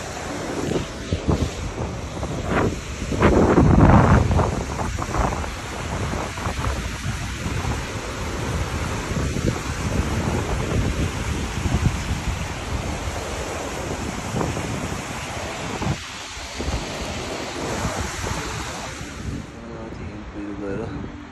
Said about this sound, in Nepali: खोलाको सङ्गम